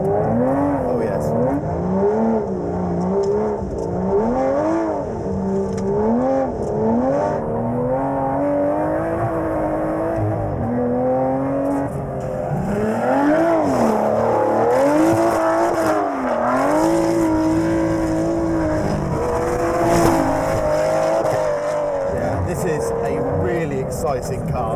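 An Aston Martin Vantage GT12 is driven hard around a track. Its engine roars continuously, rising and falling in pitch through gear changes, and someone talks over it from inside the car.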